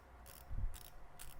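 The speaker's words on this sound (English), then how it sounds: "Bezel works nice" Clicking of the rotating bezel on a Citizen Promaster diver watch, a few soft, close ratchet clicks spaced out over a quiet background.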